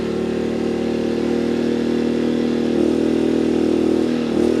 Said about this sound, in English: Pulling a load on the generator